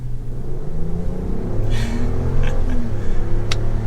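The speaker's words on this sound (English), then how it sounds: "Giving it some gas." A 2023 Jeep Wagoneer L Carbide with an inline-6 engine accelerates on a drive, a steady low rumble building smoothly, with a few faint clicks on top.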